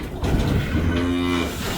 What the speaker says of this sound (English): Time to let the cows in